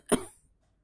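A small maritaca parakeet gives a single short, raspy cough, close and brief, followed by quiet.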